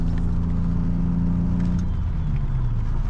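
A faulty Audi R8 engine pulls steadily under acceleration, heard from inside the car as a continuous, droning hum with a rising and shifting pitch and no speech.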